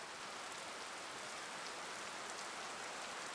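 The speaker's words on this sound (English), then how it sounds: "I hear the distant sound of rain. The long and gentle hiss of rainfall touching down." Rainfall in the game Tsukihime makes a steady, soft hiss of drops touching down, an even wash of noise with no gaps, voices or other sounds.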